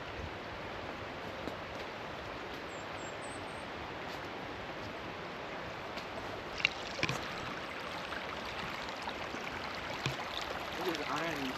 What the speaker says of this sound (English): That's a little creek over there.